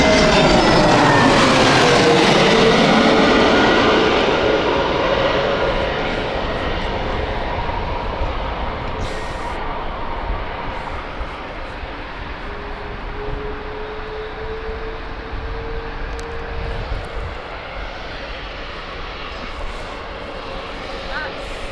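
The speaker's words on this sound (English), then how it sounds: "This is a Malta flight, Airbus A320 inbound." An Airbus A320 airliner arriving at Gatwick Airport roars loudly overhead with a falling engine whine, then settles into a long, fading rumble.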